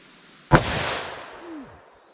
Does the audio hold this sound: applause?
no